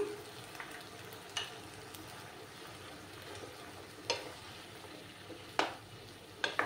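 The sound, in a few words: ginger garlic paste frying and stirred in pan for mutton curry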